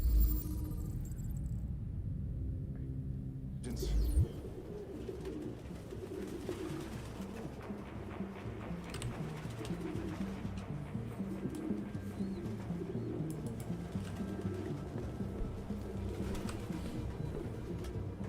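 Pigeons coo repeatedly in the video game Detroit: Become Human, a steady overlapping chorus of low, throaty calls close by, with a quieter, thinner patch at the start before many birds fill the room.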